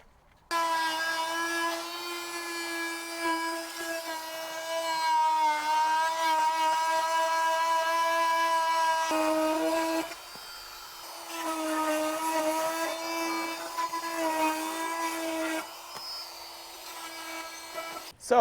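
A high-pitched power tool whines steadily while cutting an edge on wood for a boat deck repair, pausing briefly twice before resuming, close and loud throughout.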